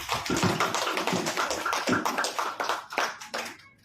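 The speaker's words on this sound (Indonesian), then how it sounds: "Kita kasihlah tepuk tangan untuk guru penggerak." Dense, steady clapping from a group of people, a continuous patter of hands that fades slightly toward the end.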